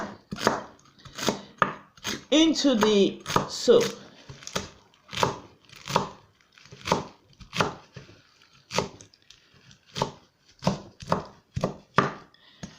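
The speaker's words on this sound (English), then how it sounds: "So we now start fine chopping it" A knife finely chops celery rapidly on a cutting board in a steady rhythm of sharp taps, close by, while a person speaks briefly partway through.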